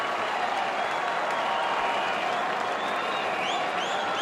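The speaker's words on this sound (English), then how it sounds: "The crowd are loving it." A cricket stadium crowd at a Pakistan versus Australia match applauds a boundary shot, a dense, steady roar of clapping and cheering that fills the scene from start to finish.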